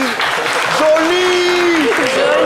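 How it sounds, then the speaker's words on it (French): Applause from an audience fills the clip, a steady patter of clapping with a voice speaking over it. "Applaudissez un peu, j'ai envie de dire."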